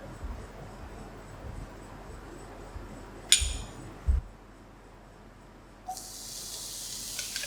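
Oil goes into a hot wok while Thai drunken noodles with seafood are cooking: a faint steady sizzle, a couple of sharp metallic clinks, then a brighter hiss swelling up near the end.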